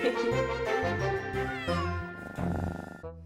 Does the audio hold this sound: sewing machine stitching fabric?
no